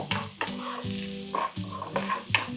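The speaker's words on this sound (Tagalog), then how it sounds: "Saute until our onions are translucent." White onions sauté in olive oil in a pan with a steady close sizzle and occasional stirring scrapes, under a tonal musical backdrop.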